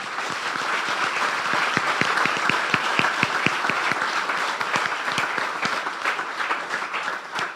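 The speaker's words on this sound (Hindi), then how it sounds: "बजा दे ताली यस्सु के लिए" A church congregation applauds during a sermon at an Apostolic church, with dense, steady clapping sustained throughout and sharper individual claps standing out close by.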